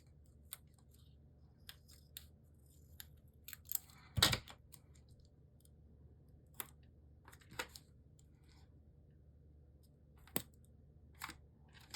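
Scissors snip through washi paper in a quiet room, a few sharp isolated cuts with one louder crunching snip, scattered among soft handling taps and long near-silent gaps.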